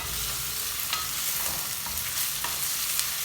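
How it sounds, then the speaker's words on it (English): Sliced onions saute in oil in a pan, the base for a chicken gizzard dish, giving a steady close sizzle with a few soft stirring scrapes throughout, with no voices. "So I'll just let the onion saute for some few minutes."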